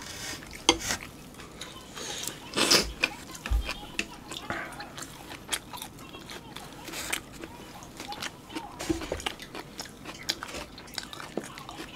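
Eating North Korean tofu rice and artificial meat, with close chewing and biting noises, soft crunches and occasional dish clinks, while a couple talk now and then.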